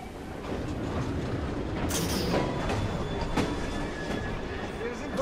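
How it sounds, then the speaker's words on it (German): A train arriving in Assassin's Creed Syndicate, in Victorian London: a steady rumbling roll with clattering wheels and a faint squeal or hiss, continuous and fairly loud throughout. "Der Zug kommt."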